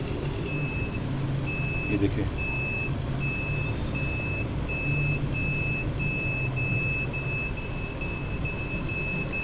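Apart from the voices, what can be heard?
musical toy steering wheel playing beeps and sounds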